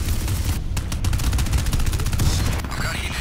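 Heavy gunfire in Crysis 3 booms in a dense, sustained barrage, with a deadly shotgun among the weapons; loud, close blasts come through thick battle noise and chaotic combat sounds.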